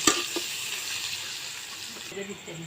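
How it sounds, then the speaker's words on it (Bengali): A chopped spice paste hits hot oil in a pan with a sharp initial crackle, then settles into a steady sizzle with a few light stirring clinks; a faint voice murmurs briefly. "তেল গরম আছে এর মধ্যে কুচি করে লওয়া পেস্ট দেব দিয়ে হালকা করে ভাজে নেব"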